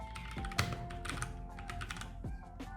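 Quick typing on a computer keyboard while searching in VS Code's extensions panel, a rapid run of close, crisp key clicks with one louder keystroke and short pauses, no voices.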